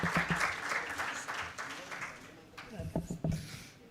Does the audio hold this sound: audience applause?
yes